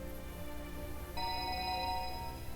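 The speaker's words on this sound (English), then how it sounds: "Abruptly, Maria's cell phone rang in Stanley's pocket." Cell phone ringtone in the video game 428: Shibuya Scramble, a steady electronic ring with sustained tones starting abruptly partway through, loud and alone over a game background.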